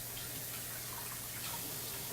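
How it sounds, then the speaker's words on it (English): Papaya rinsed under a running tap, a faint, steady hiss of flowing water with no talk over it. "So I'm going to rinse off the papaya"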